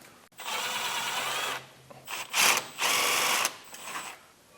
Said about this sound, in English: I break everything free by hand, and then I'll get an impact on there